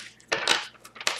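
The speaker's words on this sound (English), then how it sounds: "So while I shuffle" Tarot cards shuffled by hand give quick papery riffles and slaps in two or three short bursts, close and crisp with no talking.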